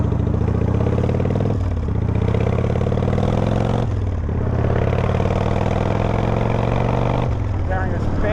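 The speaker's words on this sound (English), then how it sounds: "Start the bike." A motorcycle engine runs steadily for the whole stretch, a loud, close, rumbling idle that dips briefly three times as the revs fall and recover.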